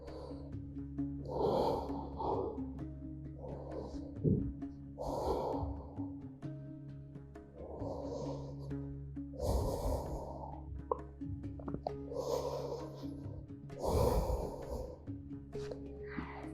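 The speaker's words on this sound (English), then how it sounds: "Deep breathing." Deep, slow breathing during a core and lower-back stretching routine: about eight long inhale-exhale cycles, each a soft airy rush, steady and close, over a low constant background hum.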